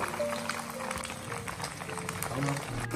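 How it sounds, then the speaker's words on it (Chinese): Pan-fried tofu slices sizzle in oil with a steady, fine crackling hiss that stays fairly low and constant, with a voice talking faintly over it. "这一面煎好之后，我们翻过来煎另一面。"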